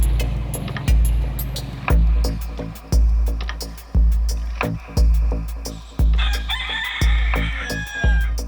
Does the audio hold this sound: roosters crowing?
yes